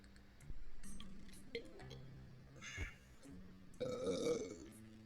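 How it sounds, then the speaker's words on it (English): A person lets out a deep, close burp while playing Papa's Freezeria Deluxe, a low rumbling belch followed by light clicks and other game sounds. "Do not put that burp in the video."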